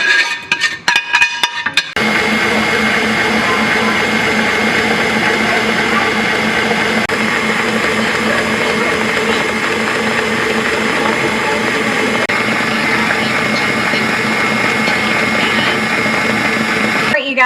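A blender on high whips hot syrup into egg whites for homemade divinity candy; a brief clatter gives way to a loud, steady motor whir that holds unbroken for about fifteen seconds.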